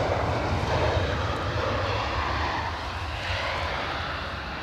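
An airplane touches down at Edinburgh Airport in 40 mph+ winds, its engine roar loud, broadband and steady throughout before easing slightly, with wind rumble underneath and no talk.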